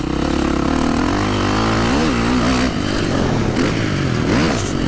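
A KTM 540 SXS dirt motorcycle engine revs loud and close, its pitch sweeping up and down as the throttle is blipped, with a steady throaty drone underneath.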